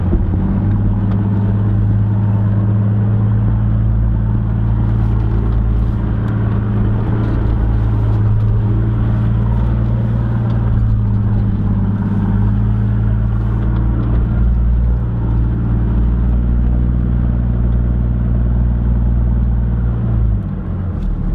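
An automatic 4WD rolls down a steep hill with light throttle, its engine giving a steady, loud, close rumble that holds an even low drone without breaks for the whole stretch.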